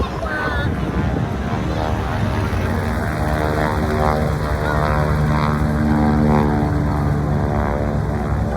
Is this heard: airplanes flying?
yes